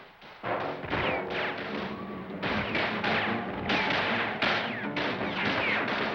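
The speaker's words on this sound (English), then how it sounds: "When the parade reached Notre Dame, again there was gunfire." Repeated sharp cracks of gunfire ring out over a crowded, noisy parade scene at Notre Dame during the 1944 Liberation of Paris, irregular shots in quick bursts against a rough background roar.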